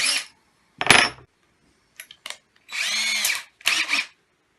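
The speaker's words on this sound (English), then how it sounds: "let me change my drill bit here" Short whining bursts of a power drill starting and stopping, close and loud, separated by brief silences.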